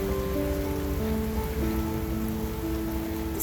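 Steady rain falling outdoors on a gloomy, cloudy day, making an even, continuous hiss and patter with no breaks, along with faint sustained tones in the background.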